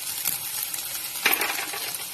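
Chopped tomatoes drop into a pan of frying onions for a garlic masala dosa filling, giving a close, steady sizzle with scattered clinks and a sharper splash of added pieces midway.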